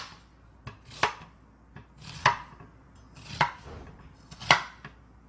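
A knife cuts through half an onion on a board, five or six separate chops, roughly one a second, close and crisp with a woody knock, and nothing else around them.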